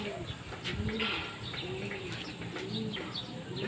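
Pigeons coo in a home loft, soft repeated rolling calls close by with light chirps and faint wing flutters over a constant background hum.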